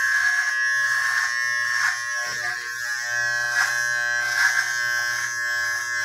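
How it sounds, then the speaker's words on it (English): Electric hair trimmer running steadily as a close, high buzzing hum; partway through, its tone shifts and roughens as the blades cut against hair, then continues without a break. "as you can hear that sound, that's another indicator that hair is still there and that you still need to continue trimming that part"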